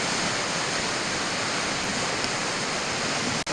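The river rushes through the Vermilion Chutes in a constant, dense, loud roar of water that holds steady throughout with no voices.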